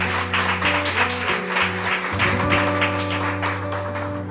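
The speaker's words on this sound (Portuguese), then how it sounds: "Uma salva de palmas ao Senhor." A church congregation claps together after a prayer, a dense, rhythmic round of applause heard over sustained music.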